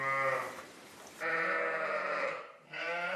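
Ewes on a farm at lambing time bleat loudly and close, one long wavering call followed by more overlapping bleats with a short pause between them, no voices present.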